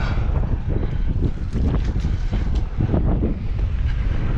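Strong wind buffeting the microphone outdoors at a busy dump site where a trash-hauling dump trailer is unloaded, a constant low roaring rumble with gusty swells and no voices.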